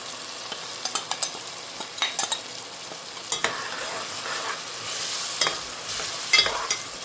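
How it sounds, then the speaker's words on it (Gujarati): Khaga fish and masala are stirred in a frying pan, the spoon scraping and clinking in irregular strokes over a continuous oily sizzle, close and moderately loud. "ચાલો આપણે મિક્સ કરી નાખીએ ફરીથી."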